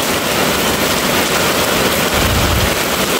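The season's first heavy rain pours down in Phụng Hiệp, Hậu Giang, after months of heat. It is a loud, dense, unbroken hiss filling the whole short stretch, with no voices.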